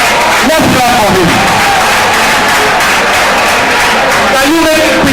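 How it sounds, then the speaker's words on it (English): An audience claps for a speaker at a university event, a loud, dense wash of applause and crowd noise filling the space steadily, with voices talking over it. "let's clap for him."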